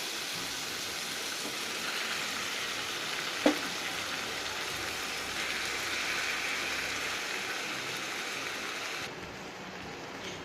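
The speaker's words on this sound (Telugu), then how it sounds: "ఇప్పుడు ఒక 5 నిమిషాలు ఫ్రై అవనిద్దాం." Soft, steady sizzle of tomatoes frying in a pan, a fairly faint continuous hiss with a single small clack partway through.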